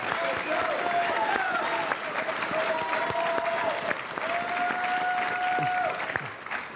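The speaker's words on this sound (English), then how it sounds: "Our audience this evening has agreed to refrain from interruptions or applause, with one exception, which is when we introduce Democratic Senator Michael Bennet and Republican Joe O'Dea" Sustained applause from a seated audience at a televised Colorado Senate debate as the candidates are introduced, a steady dense clapping that carries through the whole stretch and fades slightly at the end.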